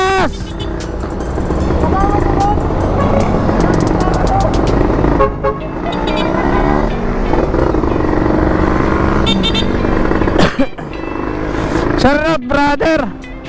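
A motorcycle with an RFI exhaust revs loudly while riding with other bikes on the road, throaty engine roar rising and falling, with horn toots and riders shouting over it.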